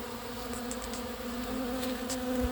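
Honeybees buzzing at a homemade recycled pollen feeder on a cool, overcast day, a steady hum of many insects with a few louder passes close by.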